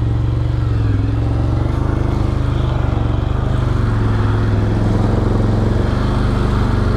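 Can-Am Outlander 1000 XMR ATV engine grinding steadily through a deep pond at night, a loud, close, constant low drone with no breaks.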